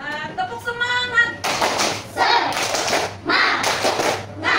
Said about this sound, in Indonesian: Kita ice breaking terlebih dahulu. Tepuk semangat.